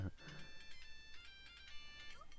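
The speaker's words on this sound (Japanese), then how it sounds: "いつきが持っている僕の携帯が 音楽を鳴らし始めた" In a video game, a mobile phone rings with retro, Famicom-style shooting-game chiptune music: a faint, bright melody of rapid beeping notes after a brief low thump.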